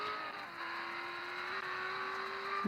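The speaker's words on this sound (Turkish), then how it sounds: "Otobüs var abi otobüs geçiyor çölden" Engine drone of a bus crossing the desert in the mobile driving game Real Driving, a steady synthetic hum with a sustained tone, moderately loud and alone.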